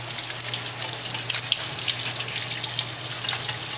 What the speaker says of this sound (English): first things first, we wash the squash.